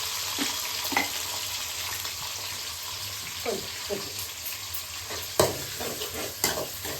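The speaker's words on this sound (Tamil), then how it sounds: "வெங்காயம் நல்லா வதங்கட்டும்" Onions and curry leaves fry in hot oil in a pan for a fish curry, a steady sizzle under scattered scraping stirs and occasional clinks, moderately loud and close.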